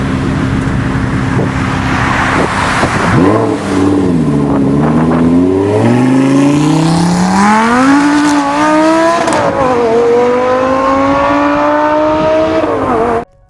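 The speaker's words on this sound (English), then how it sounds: "So here's a clip of a V10." An Audi R8 first-generation V10 engine roars loud and close, its pitch sweeping down and climbing again through repeated revving and hard acceleration before cutting off abruptly.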